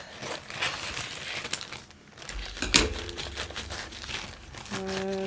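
A shipping package cut open with scissors from the bottom, giving steady rustling and crinkling of packaging with sharper snips and crackles, close and alone.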